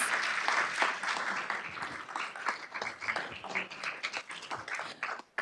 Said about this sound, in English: let's give a round of applause for all the award recipients